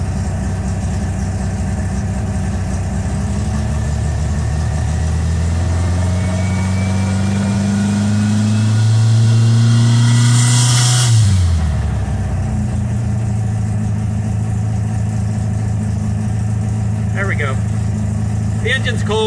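A cold engine with a 39mm Blues carburetor idles steadily at close range, its low rumble rising briefly in a short rev before settling back to a steady idle.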